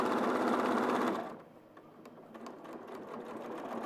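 A sewing machine runs loudly for about a second while doing top stitching on a quilt, then stops, leaving quiet ticks and faint handling sounds.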